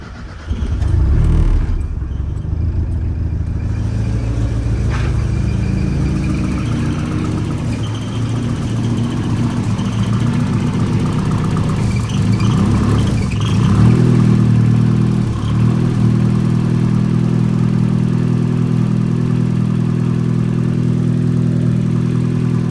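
A Mazda Miata engine with a 3-inch V-band downpipe runs steadily, loud and close, idling with a few revs swelling and settling back over the span.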